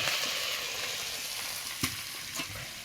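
Tempering spices sizzle in hot oil with a soft, steady hiss and a couple of faint pops, heard quietly at close range.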